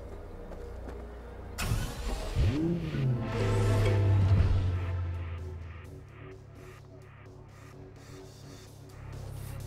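A car in Cyberpunk 2077 starts up and drives off, the engine swelling into a rising rev and then easing back to a steady hum, loud and close with no talk.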